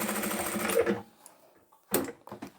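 A sewing machine stitches a fabric scrunchie in a loud, steady whir for about a second, then stops; two short bursts of backstitching follow after a pause.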